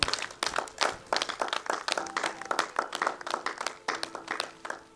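A church congregation bursts into sustained clapping and applause, many hands beating in quick uneven rhythm for several seconds, loud and close.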